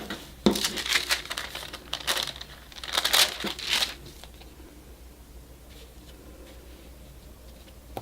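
Fibrous handmade tissue paper, the kind wrapped around flower bouquets, is handled and crinkled in several loud close bursts over the first few seconds, then settles into quiet.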